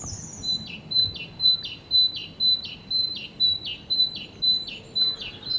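Small birds sing in trees along a rural railway branch line, a repeated high whistled note with chirps, evenly spaced about twice a second, clear and fairly close over a soft background hiss.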